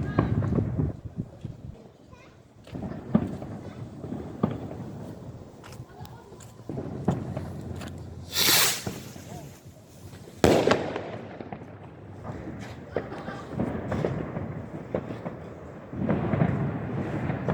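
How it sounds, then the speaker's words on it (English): Fireworks and firecrackers going off across a residential area of Szczecin, Poland, on New Year's Eve: repeated sharp bangs and crackling bursts, some near and loud, others distant and rumbling, continuing for the whole stretch with a whistling rocket midway. "people are playing around with fireworks"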